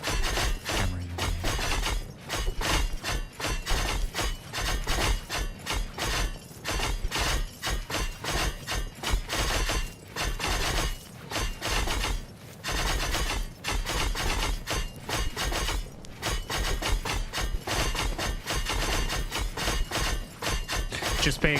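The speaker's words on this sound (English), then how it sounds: "They're all hammering away." Blacksmiths in the video game Anvil Empires hammer away on anvils, a dense, continuous clatter of sharp metallic strikes overlapping in irregular rhythm, loud and close throughout.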